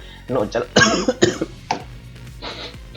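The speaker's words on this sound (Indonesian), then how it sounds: "nggak usah dipotong biar kalian tahu kalau gue lagi batuk" Several sharp, harsh coughs close to the mic, bunched in quick bursts, with a shorter cough after a pause; no talking.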